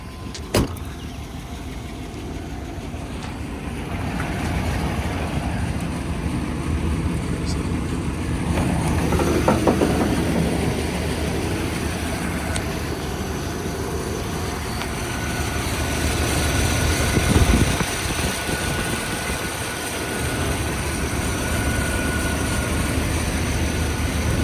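A 1996 Chevy Suburban 1500 4x4 engine idles steadily nearby with the hood up, a constant low rumble running the whole time alongside occasional small knocks and handling sounds.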